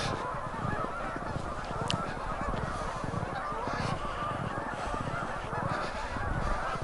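A flock of geese honks continuously outdoors, many overlapping calls forming a dense, steady chorus that sounds fairly close.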